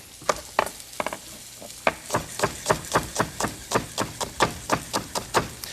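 Very small zucchini and four green onions fry in a pan, the sizzle punctuated by a steady run of sharp, evenly spaced scraping strokes from stirring, close and fairly loud, with no talking.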